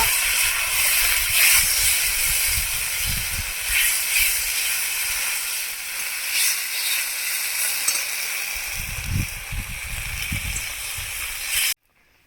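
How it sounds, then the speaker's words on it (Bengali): Egg curry gravy with ginger, garlic, green chilli, cumin and onion paste bubbling in a pan, giving a steady close hiss and sizzle throughout, with a few low thumps partway and a sudden cutoff at the end. "ঝোল ফুটে গেছে"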